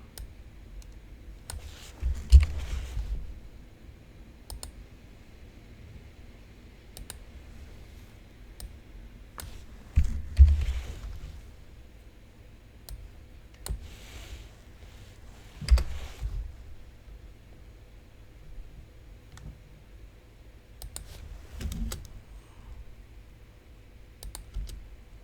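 Computer mouse clicking, sharp isolated clicks spaced irregularly with small clusters and longer pauses, close and fairly faint against a quiet room hum.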